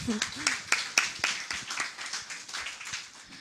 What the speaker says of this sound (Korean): 청소년한테도 박수 다시 부탁드려요.